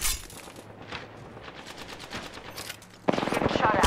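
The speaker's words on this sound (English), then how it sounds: "Getting shot at. Opening fire." Rapid gunfire from the video game Apex Legends crackles in bursts under soft game sounds, growing louder and denser near the end as automatic shots ring out close by.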